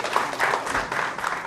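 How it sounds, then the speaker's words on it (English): A short burst of audience applause greeting a guest speaker at a chemistry lecture course, dense clapping from a room of listeners, steady and fairly loud throughout. "let's welcome Dr. Diana Montes with an enthusiastic applause"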